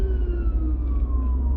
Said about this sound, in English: here comes the ambulance trying to get by.